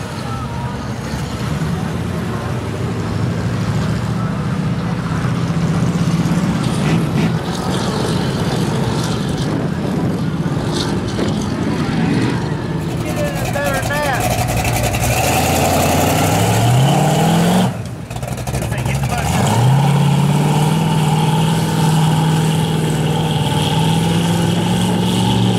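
A Toyota vehicle's engine running loud and close, with a rough, rumbling tone that changes pitch as the revs climb and drop, then a renewed rise after a brief dip, amid background noise.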